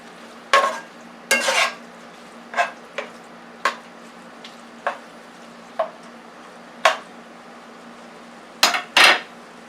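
Ground beef cooking in a pan, stirred with a utensil: a dozen sharp scraping clinks at irregular intervals over a faint steady sizzle, close up and with no talk.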